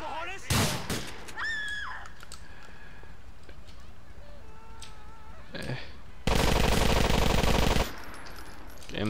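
Rapid automatic gunfire rattles loudly in a police patrol video game for a burst of about a second and a half, after an earlier single sharp shot, with scattered game sounds and tones between them.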